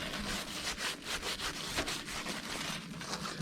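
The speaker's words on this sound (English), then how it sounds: "we're going to take it, rub all this off there. So you can see the seeds that are inside." A dried sunflower head is rubbed by hand to loosen its seeds, giving a close, quiet, rhythmic dry scratching that repeats in quick strokes.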